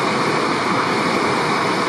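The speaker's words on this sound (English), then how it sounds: "little bit of a waterfall there." A small waterfall in the Red Deer River valley in the Banff backcountry pours with a steady, dense rush of water, constant and close throughout the short stretch.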